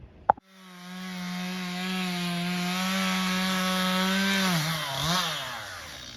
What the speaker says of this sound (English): Got the chainsaws going.